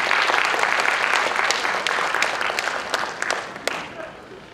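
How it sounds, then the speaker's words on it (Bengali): Audience applause rings out after a stage play, dense sustained clapping from a crowd that stays loud and then gradually thins toward the end. "এদের জন্য একটা জোরে হাততালি হয়ে যায়।"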